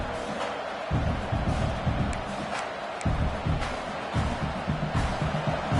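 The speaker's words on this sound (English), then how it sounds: "Listen to the crowd energy here in the early going." A large crowd in the video game College Football 26, Oregon vs Michigan, roars steadily, with rising swells of cheering and shouting that fill the space, heard from within the stands.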